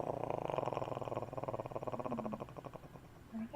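A cat purrs steadily as it drifts off to sleep in the Call of Cthulhu: Madness game, a close, rhythmic rumbling pulse that runs throughout and fades slightly toward the end.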